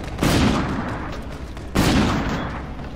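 Two KBS Longbow bolt-action sniper rifle shots in a video game, each a loud sharp crack with a booming tail, about one and a half seconds apart, no voices.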